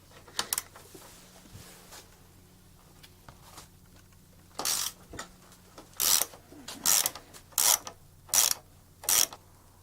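A hand wrench clicks as it loosens a bolt on the engine of an MBK Magnum Racing scooter during teardown, giving several short bursts of close ratcheting clicks separated by pauses over a quiet background.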